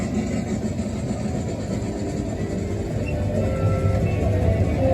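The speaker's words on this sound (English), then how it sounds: "Casey Jr.'s coming down the track with" The Casey Jr. train ride at Disneyland rumbles along its track, a steady low mechanical drone with faint rattling that swells slightly near the end, heard without speech.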